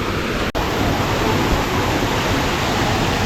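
Kumari Ella waterfall in Seethawaka roars as a steady, dense rush of falling water that fills the whole scene evenly from start to finish, with one very brief dip near the beginning.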